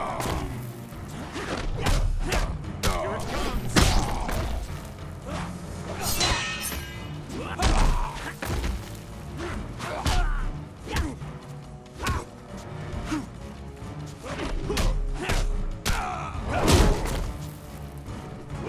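Rapid punches, kicks and crashing impacts in a Mortal Kombat fight with Johnny Cage, a dense, irregular flurry of thuds, whacks and smashes with whooshes between them, loud and continuous over game music.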